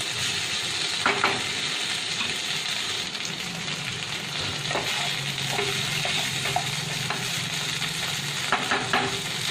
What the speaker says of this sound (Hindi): दही डालने के बाद आधा 1 मिनट हम इसे खुले आग में पकाएंगे।